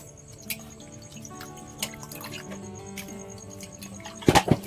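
Water trickles and drips with scattered small clicks and splashes as raw chicken is washed, ending in a brief, louder burst of splashing.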